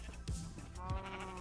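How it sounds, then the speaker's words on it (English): Sheep in the Minecraft GregTech New Horizons modpack bleat twice in quick succession, near and moderately loud against quiet game ambience, without talking. "Come here, other sheep."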